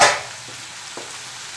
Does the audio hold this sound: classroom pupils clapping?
no